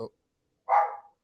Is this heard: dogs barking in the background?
yes